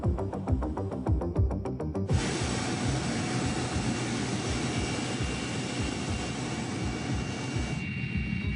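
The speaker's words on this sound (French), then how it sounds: "À quelques minutes, 2 hélicoptères attendent Arnaud et sa colonne" Two helicopters waiting for a GIGN tactical team's deployment, their rotors and engines roaring loudly and steadily, with a rhythmic chopping beat early on that gives way to a dense continuous turbine rumble.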